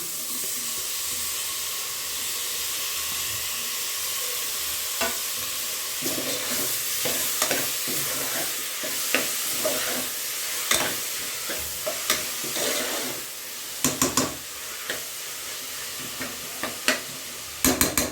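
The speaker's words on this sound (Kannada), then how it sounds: "ಇದನ್ನು ಫ್ರೈ ಮಾಡ್ಕೋಬೇಕು ಮಧ್ಯ ಮಧ್ಯ ತಿರುಗಿಸ್ಕೊಂಡು ಬೇಯಿಸ್ಕೊಳ್ಳಿ" Chopped tomatoes fry in oil with a continuous hissing sizzle, while a spoon scrapes and knocks against the pan at irregular intervals, growing more frequent toward the end; no voices.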